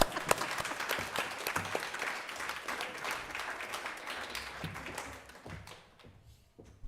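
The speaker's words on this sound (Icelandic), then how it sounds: "Þið megið bara klappa fyrir mér." An audience at a symposium breaks into applause, dense clapping at moderate distance that holds steady and then thins and fades out toward the end.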